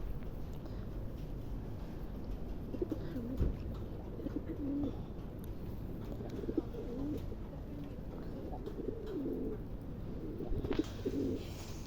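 Soft, repeated pigeon coos rise and fall over a steady background hum, several calls spaced irregularly and fairly close by.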